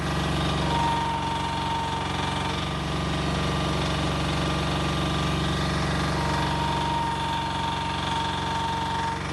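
A mini excavator's diesel engine runs steadily at a constant idle, a loud, even mechanical drone with faint knocking texture and no talking.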